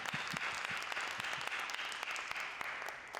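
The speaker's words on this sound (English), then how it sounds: "Man, round of applause for Dr. Walker." An audience at a campus talk event claps in a sustained round of applause, fairly quiet overall, with individual hand claps standing out sharply against the even roar.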